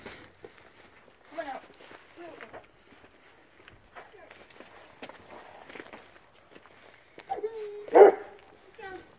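A dog barks around a meat delivery truck, with one loud close bark standing out near the end amid footsteps, movement and people talking throughout.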